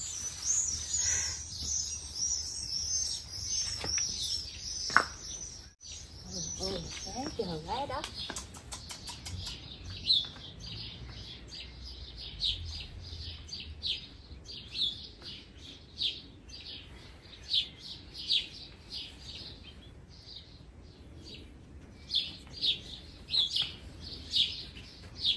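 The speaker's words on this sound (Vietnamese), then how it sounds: "mấy bà chim sáng sớm mà mấy bà dậy sớm ghê, mấy bà kêu ríu ríu ríu ríu vậy đó" Birds chirp and tweet in the early morning, with repeated high, bright calls scattered throughout and a person talking over them at times.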